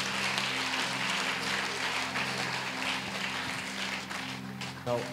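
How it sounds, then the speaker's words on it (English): Church congregation clapping hands in celebration during a Sunday service, a steady wash of applause that carries on throughout, with voices and talk mixed in underneath. "Let's clap our hands and celebrate Jesus with them."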